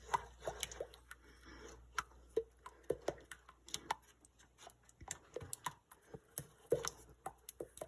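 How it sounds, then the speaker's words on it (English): A wooden spoon stirring cooling maple syrup in a pot, giving soft irregular taps, clicks and sticky squishes close by in a quiet room. "So now I'm going to stir it with a wooden spoon."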